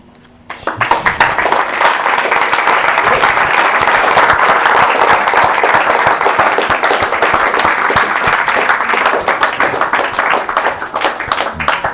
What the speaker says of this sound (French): N'applaudissez pas trop fort, il va vouloir en venir plein de fois.